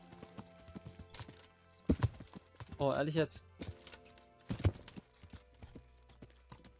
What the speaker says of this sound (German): Das klang wie... Wie ein Pferd, was hier rumhüpft.